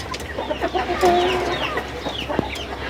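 Hens cluck and murmur steadily nearby, with a few higher squawks over a constant farmyard background.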